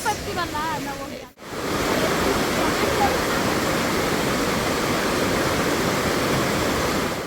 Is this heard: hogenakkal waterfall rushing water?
yes